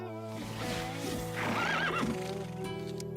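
A cartoon horse gives a loud, close whinny that rises and falls over a steady musical backdrop, with faint clip-clop hooves, and no talking.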